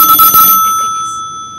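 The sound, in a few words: telephone ringing from a call-in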